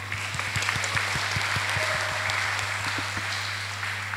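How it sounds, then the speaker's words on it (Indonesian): Audience applause at a public lecture and book discussion, steady dense clapping from a sizeable crowd that holds at an even level throughout, with a constant low electrical hum underneath. "Boleh tepuk tangannya dulu."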